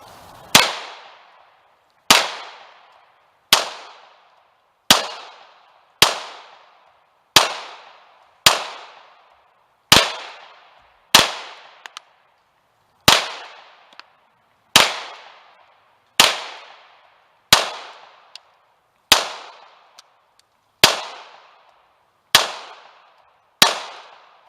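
A SAR B6 Hawk CZ75 clone pistol fires mixed ammunition (heavy, light and hollow point) outdoors, about seventeen sharp, loud single shots spaced evenly roughly a second and a half apart, each ringing briefly.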